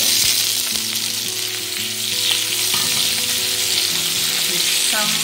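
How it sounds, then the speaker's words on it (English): Flat black noodles for kuey teow ladna stir-frying in a pan, a steady loud sizzle with scraping stir strokes throughout, no talking. "Stir fry black noodle"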